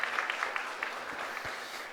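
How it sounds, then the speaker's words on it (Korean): Committee members at a Sunday afternoon church service give a short round of applause, a steady patter of hand claps at moderate distance with no talking over it. "일람선 위원들이 박수 한번 좀 하실까요?"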